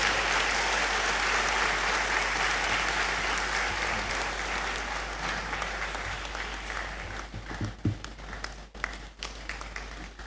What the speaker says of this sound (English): Let's keep clapping for Emmanuel as he resumes his seat.